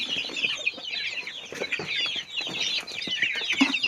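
A flock of young, nursery-raised chickens in an uncrowded farm pen clucks continuously, many overlapping close calls forming a busy, steady chatter with no voices.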